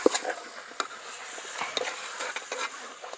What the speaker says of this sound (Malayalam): ഇനി നമുക്ക് ഈ ഇറച്ചി ഒരു വെള്ള കളറാവുന്നത് വരെ ഇതിൽ ഇളക്കി കൊടുക്കാം